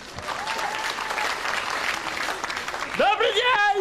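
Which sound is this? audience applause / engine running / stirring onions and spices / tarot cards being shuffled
audience applause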